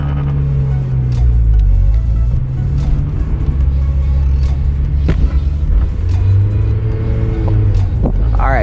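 A Mazda Miata with a manual gearbox pulls in second gear, its low engine drone steady and close with a shift-like dip in pitch, as a brief voice is heard near the end.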